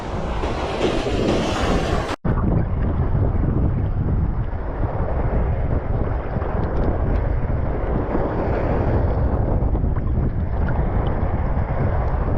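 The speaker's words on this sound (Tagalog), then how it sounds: "ang lakas ng hangin" Strong wind roars and buffets the microphone in a constant, loud rush, with a brief cut near the start.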